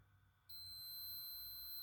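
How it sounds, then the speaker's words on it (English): A continuity tester emits a steady high-pitched electronic tone when its probes touch the ground terminals of sensors on a 65-watt show laser build. The tone starts abruptly after a short quiet moment and holds unbroken to the end. "it beeps"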